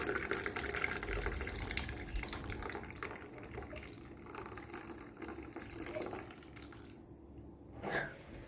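Hot chocolate milk being poured into a chocolate coffee drink: a soft, continuous liquid pour and trickle that stays faint and close for several seconds, easing off toward the end with a small splash.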